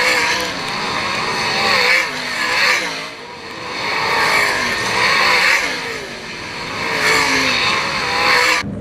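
Sprint race cars roaring side by side toward the checkered flag at Attica Raceway Park, a loud, sustained engine howl that swells and fades in waves as the cars pass, with no talk heard.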